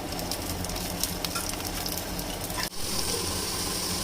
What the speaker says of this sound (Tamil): கடையில் கொஞ்சம் எண்ணெய் விட்டு பட்டை, கிராம்பு, சோம்பு, ஏலக்காய், குருமிளகு, சீரகம், இஞ்சி, பூண்டு எல்லாம் சேர்த்து போட்டுருங்க